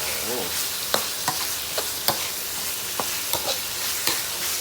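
Meat sizzles steadily in a hot pan while a utensil scrapes and clacks against it in irregular strokes.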